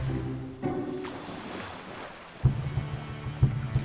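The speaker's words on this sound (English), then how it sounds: "We docked and secured the boat on the harbor." A boat engine drones with a steady low hum while motoring on the sea off West Sweden's coast, water sloshing and wind around it, a few heavier knocks near the end.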